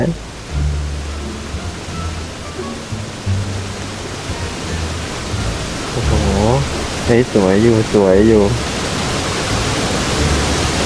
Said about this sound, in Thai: เอ้ยมันมีลูกเห็บด้วย มันมีลูกเห็บด้วย